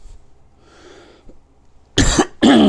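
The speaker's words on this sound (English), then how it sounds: "Excuse the cough." Two sharp, loud coughs in quick succession near the end, after a faint breath and quiet pause.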